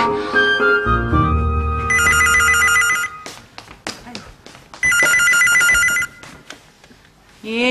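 A telephone rings loudly and close by in two electronic trilling bursts. Between them there is light tapping and clatter, and a brief voice is heard at the start.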